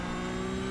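A Porsche race car engine in Assetto Corsa hums at a steady pitch in a short, even, mid-level drone with no talk.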